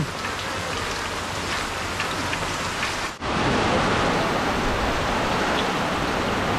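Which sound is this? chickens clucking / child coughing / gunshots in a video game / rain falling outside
rain falling outside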